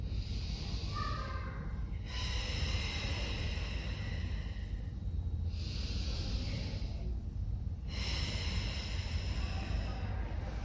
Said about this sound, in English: let's take 3 more breaths here